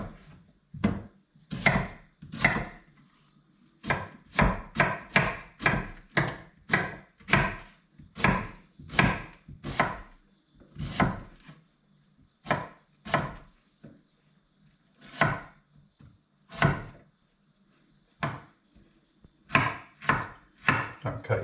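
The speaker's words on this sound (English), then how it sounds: "Right, I'm going to chop it all up." Onion and pepper being chopped for chutney on a board, bursts of rapid knife knocks in rhythmic runs with brief pauses between, close and crisp, no talking.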